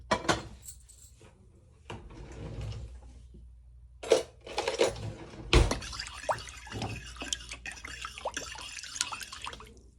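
Water, a tablespoon of salt and half a cup of vinegar being poured and stirred together in a bowl for a whole-chicken brine, with intermittent splashes, drips and clinks of a spoon in the liquid, nearby, with no talk.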